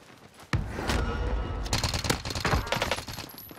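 Sustained automatic gunfire in a Call of Duty Warzone match on Rebirth Island, a loud dense fusillade of rapid shots with a sharp onset, close and continuous with layered bursts.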